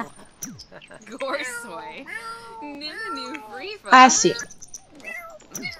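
A cat in The Sims 4 video game, a pet named Sam at the vet, gives a run of close, varied meows and drawn-out wails, one of them loud and harsh. A person says a few words in the clip.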